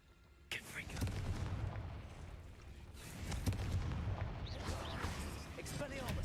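Fiery magic blasts from the Confringo spell in Hogwarts Legacy rumble in bursts over continuous combat noise, with a voice speaking over the action.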